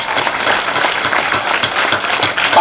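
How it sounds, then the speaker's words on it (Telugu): Sustained audience applause at a Yoga Day gathering honouring Narendra Modi, a dense steady wash of many hands clapping close and loud throughout, without speech. "కూడా క్లాప్స్ కొట్టుకున్నాం."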